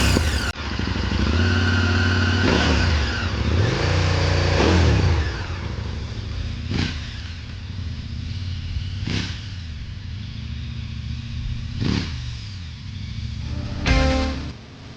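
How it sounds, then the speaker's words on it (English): Adventure motorcycle engine revving hard as a rider builds revs for a wheelie, several sharp throttle blips and swells in quick succession, close and loud, with no talking. "you start building up a bit of revs in the engine"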